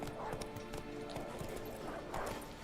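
A horse's hooves clop in a steady, fairly faint walking rhythm in Witcher 3: Wild Hunt, layered over soft ambient game sound.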